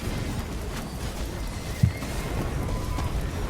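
A horse neighs and whinnies amid the hooves of a mounted charge in a video game battle, loud over dense rumbling combat noise, with one brief thump midway.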